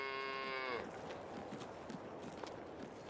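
A cow on a farm in a farming video game gives one long, clear moo right at the start, followed by soft livestock shuffling and a person talking quietly.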